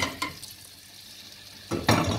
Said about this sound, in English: I will be adding the onions. So, I will not wait for the oil to hot.